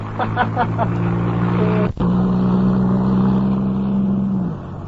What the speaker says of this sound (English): Well, he's stopping his car.